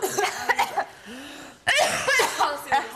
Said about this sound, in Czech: přestaň kašlat